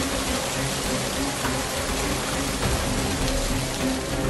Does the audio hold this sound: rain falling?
yes